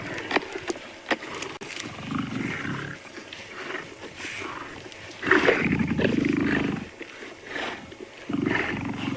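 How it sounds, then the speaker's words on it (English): Two male lions roar and grunt at Djuma Game Reserve, one of them a ginger-maned male while feeding, the calls rising in loud bursts in the middle and near the end over a steady outdoor background. "which of the two lions is making the most noise"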